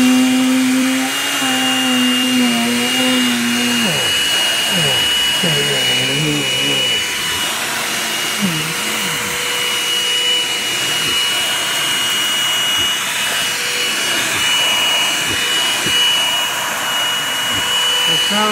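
Shark V15Z31 handheld vacuum cleaning up fine filter dust, running as a loud steady motor whine and rushing airflow that shifts in pitch as it sucks, with a person talking briefly under it.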